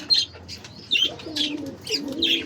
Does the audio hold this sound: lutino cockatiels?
yes